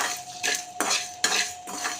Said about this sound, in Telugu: దీనిలో 2 ఎండుమిర్చి కొంచెం మిరియాలు కూడా వేయాలండి. కొద్దిగా లైట్గా ఫ్రై అవనివ్వాలి.